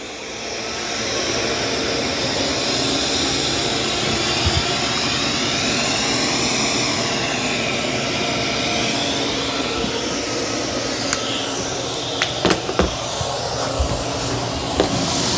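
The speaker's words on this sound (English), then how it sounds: "have it vacuum the entire house, and it'll find where all this edges are" A Eufy S1 robot vacuum runs through a house cleaning floors, giving a steady, fairly loud motor whine with a spinning brush roller, continuous throughout, with a few clicks and knocks near the end.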